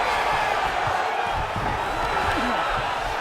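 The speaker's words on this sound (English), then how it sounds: "huge pop from the crowd as the fighters get back up to their feet" Crowd noise roars steadily from a UFC 5 video game arena as fighters get back to their feet, a dense, continuous wash of cheering with faint shouts rising within it.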